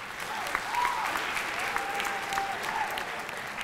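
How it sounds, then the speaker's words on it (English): A room of students applauds together in a quiet, even wash of clapping that sounds somewhat distant, with a faint voice or tone drifting underneath. "Give yourselves a round of applause."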